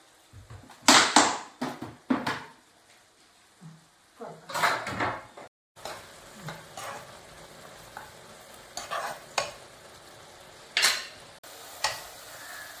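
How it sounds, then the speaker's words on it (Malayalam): A spoon scrapes and stirs cardamom powder through melted jaggery in a pan, with intermittent clattering strokes and brief pauses between bursts. "ഇതൊന്ന് നന്നായിട്ട് ഇതിൽ മിക്സ് ചെയ്തതിന് ശേഷം ആയിട്ട് നമുക്ക് നാളികേറെ ഇട്ട് കൊടുക്കാം"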